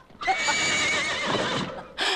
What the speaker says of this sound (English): Get away from that horse!